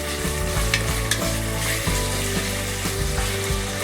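Veal and onion cooking together in a pot give a steady, close sizzle with faint stirring, continuous for a few seconds with no talk.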